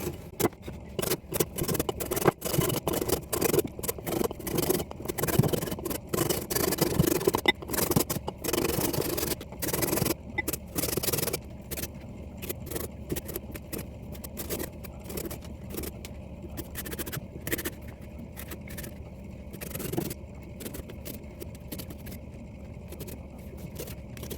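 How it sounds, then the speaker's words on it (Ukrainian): A carrot is rubbed against a grater in a kitchen, giving quick rhythmic rasping scrapes in bursts, with short pauses between strokes, fairly quiet and close. "Хочу морку потерти на тертку."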